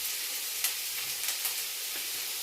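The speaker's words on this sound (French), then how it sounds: "Allumez le gaz à feu moyen et faire revenir les oignons" Onions sauté in a pan over a medium gas flame with a steady, close hiss and faint crackles, and no voices.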